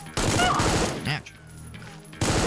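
Bursts of gunfire from a weapon in the shooter Supplice, loud rapid firing in two clusters separated by a quieter stretch with a voice speaking.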